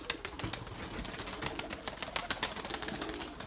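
Trained young domestic pigeons coo softly, a continuous murmur from several birds close by, with scattered wing flutters and light rustling and no talking.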